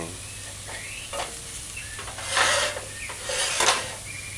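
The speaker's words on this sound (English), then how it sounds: "once the vegetables are sauteed to your liking, you just mix in everything now and stir fry" Taco ground beef stir fried with sautéed vegetables, a close frying sizzle under repeated scraping strokes of a utensil against the pan that swell in two louder bursts, with no talking.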